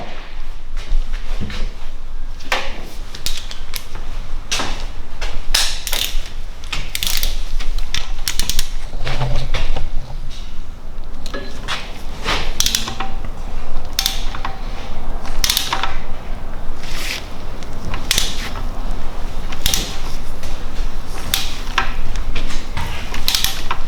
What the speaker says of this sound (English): now the Torx bolts, I'm going to torque them to 40 Newton meters and 90 degrees